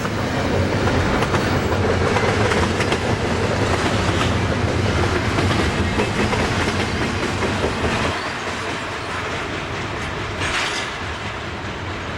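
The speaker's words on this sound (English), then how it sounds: "another train passes with all domestic containers heading to Morrisville, Pennsylvania" A freight train loaded entirely with domestic containers rolls past in Pennsylvania. A continuous loud rumble carries clickety-clack wheel beats throughout and eases slightly in the final seconds.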